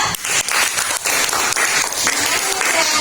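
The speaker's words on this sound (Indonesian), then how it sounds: "Berikan tepuk tangan untuk Nesya ya" Classmates in a school lesson applaud a student named Nesya, a brisk burst of many hands clapping, with sharp individual claps standing out in an even, fairly loud wash of sound.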